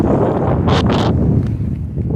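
Wind gusting outdoors on a nature walk at night, a loud, steady rumbling wind noise buffeting the microphone with a couple of brief hissing bursts, no talking.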